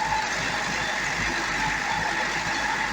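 A Corvette C6 idles in park at normal coolant temperature, a steady, close, low engine drone with an even rumble and no changes in revs.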